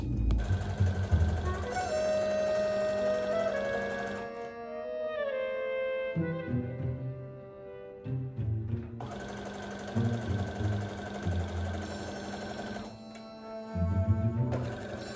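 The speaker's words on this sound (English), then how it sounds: "So these 2 will be sewn together on the seams, and then the other 2 will be sewn together on the seams." A sewing machine stitches the seams of a lined dress for a Squid Game costume, whirring in several sustained bursts with short pauses between runs, close and fairly loud.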